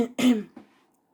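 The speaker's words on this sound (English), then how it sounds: "I have a bit of a cough. Because of a cold." A woman with a cold lets out a single short, husky cough followed by a softer throat-clearing catch, close to the microphone in a quiet room.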